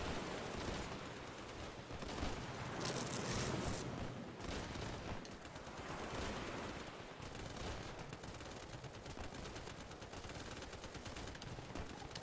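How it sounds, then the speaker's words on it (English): Dense, continuous gunfire from the video game Easy Red 2, with overlapping automatic bursts and heavy shots roaring on without pause for the whole stretch, loud and chaotic with no talking. "all of a sudden there's gunfire everywhere"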